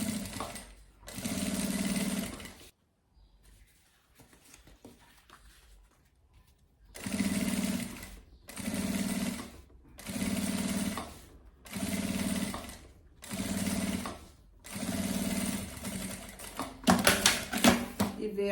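A sewing machine runs in short bursts of rapid stitching on fabric for a travel bag, backstitching at the start and end, stopping and starting about seven times with quiet pauses between.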